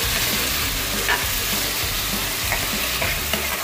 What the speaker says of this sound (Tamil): போட்டுட்டு இப்போது இதை நல்லா வந்து வதக்கிக்கணும்.